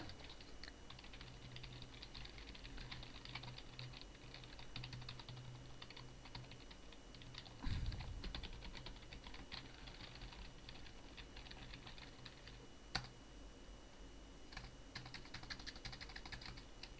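A computer keyboard is typed on in faint, scattered clicks, heard quietly and at some distance with a low steady background hum.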